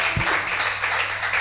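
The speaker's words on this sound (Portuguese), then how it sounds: "Receba essa palavra e aplauda o Senhor Jesus." A church congregation claps in a dense, continuous wash of applause during a worship service, steady and fairly loud for a brief moment.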